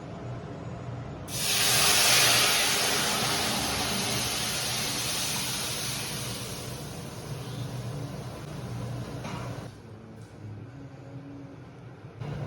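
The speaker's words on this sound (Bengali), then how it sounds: "তো এই যে তেল আর পাঁচ ফোড়ন দিয়ে দিয়েছি এরপর আমি এটা ছোপ দিয়ে দিচ্ছি" Hot oil tempered with panch phoron is poured over boiled masoor lentils and bottle gourd, setting off a loud, sudden sizzling hiss that fades slowly into a steady lower crackle and simmer.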